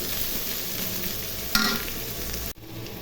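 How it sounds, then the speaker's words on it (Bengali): Chopped onion fries in hot oil, a steady close sizzle with a brief stirring clatter partway through and a sudden dip near the end, no talk. "তেল গরম হয়ে গেছে এখন পিয়াজ কুচি দিয়ে দিব পিয়াজ কুচি ভেজে নিব আগে"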